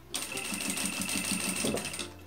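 A sewing machine stitches fabric for a simple zippered wallet, running in a quick even rhythm of needle strokes for about two seconds before stopping, ending with a sharp click.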